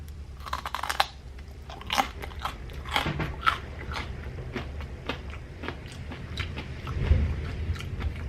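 Close, loud crunchy bites and chewing on matcha and caramelised white chocolate sourdough bread, crisp crackling crust snaps repeating irregularly over several seconds, with no talking.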